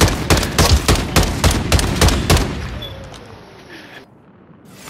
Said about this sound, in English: Hey yo, he threw a grenade!